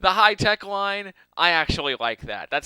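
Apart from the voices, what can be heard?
No everyday noise stands out behind the speech.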